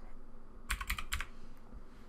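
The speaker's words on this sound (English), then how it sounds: "we're going to type in here gpedit.msc" A short burst of computer keyboard typing sounds as a command goes into a Windows 10 search box: several quick close keystrokes over a faint steady background hum, with no talking.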